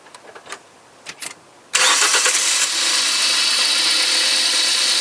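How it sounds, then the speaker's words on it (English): A car engine cranks briefly with the ignition key, then catches and settles into a loud, steady idle, with a few light clicks and knocks heard before it starts. "I go to turn on this ignition key"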